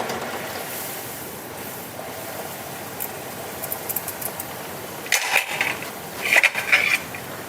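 Rose cookies fry in hot oil with a steady, broad bubbling hiss throughout, and a few brighter crackling bursts near the end as more batter goes in.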